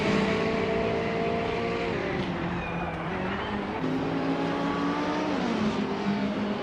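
Race cars in a racing video game, a steady roar of engines close by with revs climbing and shifting as cars jostle, one engine whining over the pack in a continuous dense blend.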